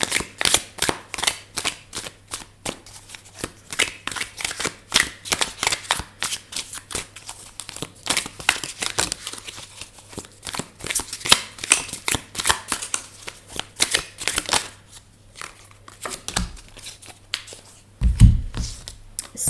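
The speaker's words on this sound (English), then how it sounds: "Let's get some more message cards." A deck of message cards is shuffled by hand for nearly twenty seconds, continuous rapid riffling and slapping close up, with no talking.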